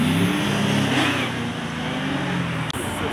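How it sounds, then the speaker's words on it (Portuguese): A Chevrolet Camaro engine revs and accelerates nearby on a city street at night, a loud steady roar that holds, then a brief sharp drop near the end. "Olha aí, pessoal, o Chevrolet Camaro acelerando."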